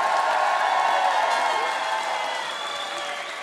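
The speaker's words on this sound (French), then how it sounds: "on peut applaudir bien fort la fanfare" Audience at a political evening show at La Cigale clapping and cheering for a brass band, a dense, steady wash of applause that stays loud throughout and tapers slightly toward the end.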